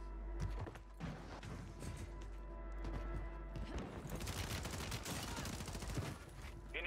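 Gunfire in the video game Warzone, heard as rapid bursts of automatic shots and sharp cracks, fairly quiet and dense throughout, growing busier toward the end.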